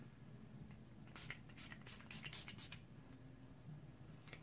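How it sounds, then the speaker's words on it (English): Several quick, faint hissing spritzes from a makeup setting spray bottle sprayed on a face, one after another, with a final short spritz after a pause. "I'm going to spray my face"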